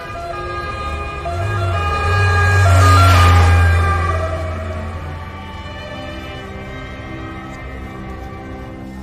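An ambulance siren swells as the vehicle passes nearby, peaking loudly before fading into the distance over engine rumble.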